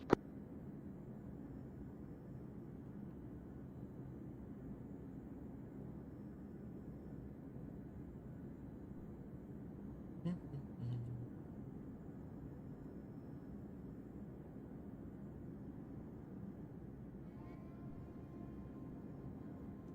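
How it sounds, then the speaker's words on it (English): Steady broadband roar of an Airbus aircraft in flight in the game Arma 3, a constant droning rumble throughout with a brief faint click partway and no talk. "Airbus increasing speed to 250 to 300 kilometers an hour"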